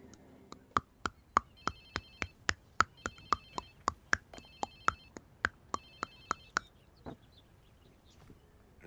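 A phone ringtone from the video game Watch Dogs 2 rings in a rapid, evenly spaced electronic pattern of about twenty sharp pulses with a steady melodic trill. It plays loud and clear with no talk over it, then stops and leaves a quiet tail.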